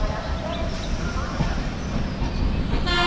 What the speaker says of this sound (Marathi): मांडवी ट्रेन लागली इकडे या साईडला मडगाव मांडवी एक्सप्रेस